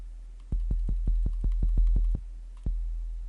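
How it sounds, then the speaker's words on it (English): A sub kick drum layered into an FL Studio mix plays about a dozen deep, punchy low thumps in a steady rhythm, stopping briefly before one more hit near the end, alone with no voices. "Sub kick, and it sounds like this."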